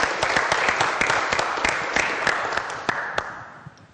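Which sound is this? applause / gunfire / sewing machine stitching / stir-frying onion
applause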